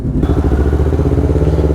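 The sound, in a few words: Yamaha R3 300cc motorcycle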